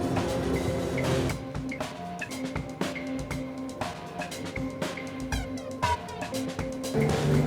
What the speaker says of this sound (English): let's try a flanger